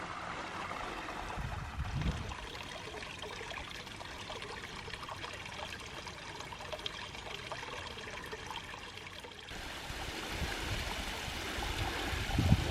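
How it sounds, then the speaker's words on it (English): Small waterfall on Spring Creek in bushland, a faint, steady rush of splashing water that runs on alone throughout. "Here we have another small waterfall."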